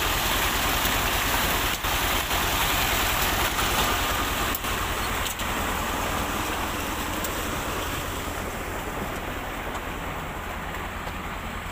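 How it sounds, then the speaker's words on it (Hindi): Water runs steadily from a tap fitted to a vehicle, a constant broadband rush holding the same level from start to finish with no voices. "तो वो नलका लगा हुआ है हमारा, यहाँ से पानी आ रहा है"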